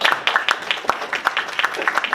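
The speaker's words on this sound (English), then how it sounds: "I think he deserves a big round of applause." Sparse, light applause from a business and investment conference audience after closing remarks by an ambassador, with scattered individual claps rather than a full ovation, moderately close.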